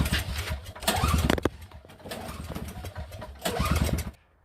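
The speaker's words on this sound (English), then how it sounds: "we're going to give it 3 or 4 good pulls and see where we're at on the compression" A Craftsman snowblower's two-cycle engine is pulled over several times with a compression tester in the spark plug hole, three bursts of rapid chugging cranking, close and fairly loud, with quiet gaps between pulls.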